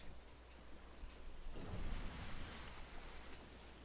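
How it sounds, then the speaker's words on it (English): Ocean waves in a pirate video game wash in a steady broadband roar, building into a fuller surge midway and then settling back into a continuous churn, with no talking. "Because of the waves."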